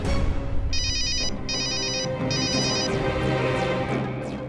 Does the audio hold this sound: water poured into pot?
no